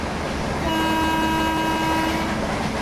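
Sustained train horn from an Indian Railways WAP-7 electric locomotive in the MSTS train simulator, a steady tonal blast of about two seconds rising over constant rumbling running noise.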